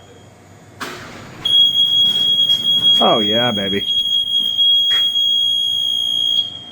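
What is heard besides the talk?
alarm beeping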